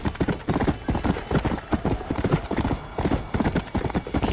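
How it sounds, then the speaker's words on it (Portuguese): Horse hooves clip-clopping in the Western video game Red Dead Redemption, a steady quick trot of repeated hoofbeats, fairly close and continuous, no talking. "olha esse cavalo, velho"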